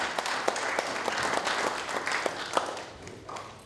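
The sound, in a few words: applause for Petaluma City Council candidates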